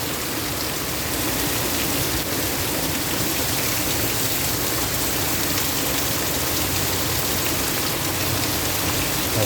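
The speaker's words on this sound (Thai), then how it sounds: "ฝนสาดไปนู่นแล้วครับ" Heavy rain pours down in a dense, constant roar, loud and unbroken throughout with no pauses, splashing in on a house.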